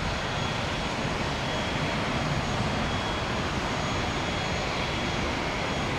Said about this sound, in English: Exec jet, anybody?